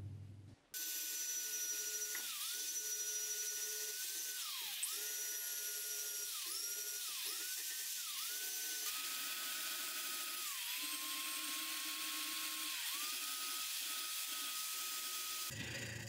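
A high-pitched rotary tool sanding curved MDF whines steadily, its pitch dipping repeatedly as it bites into the material, then recovering; close and continuous with no talking.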